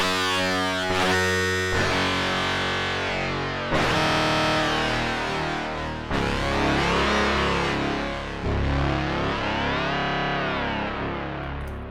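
A Hydrasynth synthesizer patch plays sustained, heavily processed chords with reverb switched on, several swelling notes in sequence with distorted, chorus-like shimmer and long reverberant tails, loud and alone without talk.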